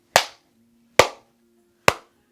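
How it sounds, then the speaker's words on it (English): Three sharp hand claps during a yoga and qigong routine, evenly spaced under a second apart, loud and close, each with a short ringing decay and no talking. "And you take 3 claps."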